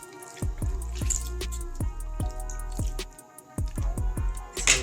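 Water drips steadily from mozzarella cheese dipped in water, each drop a close, clear plink arriving about every half second.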